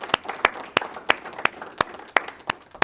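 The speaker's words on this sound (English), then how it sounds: "Studio audience, can you give yourselves an applause?" Sparse, distinct claps from a small studio audience, roughly a dozen sharp hits in uneven rhythm, fairly close and moderately quiet, with no talking.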